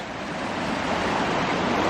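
Creek water flowing beneath a mossy wooden footbridge in the woods, a steady close rushing wash that stays even and continuous throughout, with no voices.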